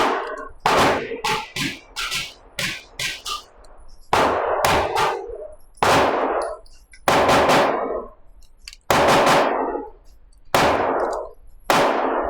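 A Sig Sauer P211 GTO pistol fires Blazer ammunition outdoors: a rapid string of sharp, loud shots, then slower single shots with ringing decay, each crack distinct and close.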